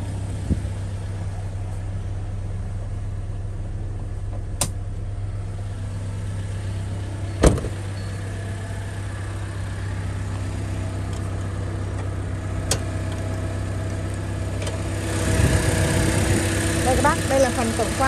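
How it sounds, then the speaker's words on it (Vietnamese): A 2007 Toyota Innova G engine idles smoothly and steadily at close range, a low even hum with a couple of sharp clicks and a brief rise in noise near the end. "Đấy, máy nổ rất là êm luôn. Đây các bác nghe máy này."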